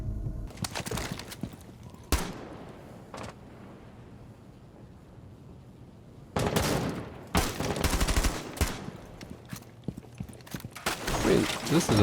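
Gunfire in a competitive shooter video game sounds in bursts, a sharp shot early, then dense rapid volleys later, fairly faint against the game's background sound.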